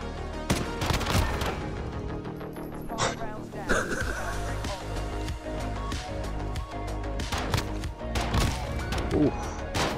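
Gunfire in the Call of Duty Modern Warfare video game, with pistol shots among them: sharp, scattered bursts of shots and impacts at irregular intervals over a busy game soundscape, while players chat over the action.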